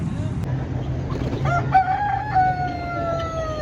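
An Aseel rooster crows once nearby at a rooster market, a rising then sustained call, over steady outdoor background noise.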